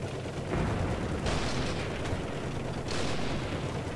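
Tank gun shots in War Thunder, dull heavy booms with rumbling tails, three blasts spread across a few seconds over constant engine-like noise.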